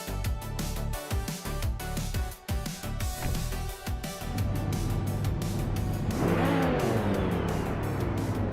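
Race cars in a racing video game at Lakeside Park, engines revving and roaring close by, with rhythmic gear-change bursts giving way to a rising sustained acceleration whine as the cars pull away.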